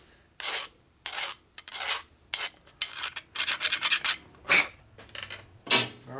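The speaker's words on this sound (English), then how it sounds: "Do the old famous deburr job." A file deburrs a head from a 1957 Harley-Davidson Panhead drag-race engine, with loud close rasping strokes in an irregular rhythm, some long and some quick and clustered, separated by short pauses.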